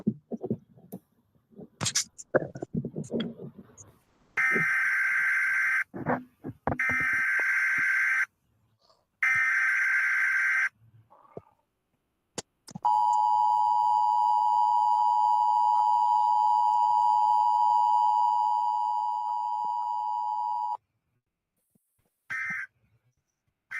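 A ham radio puts out a series of electronic tones and beeps: short bursts of static, several steady pulsing tone blocks broken by gaps, then a long continuous pure tone lasting about eight seconds.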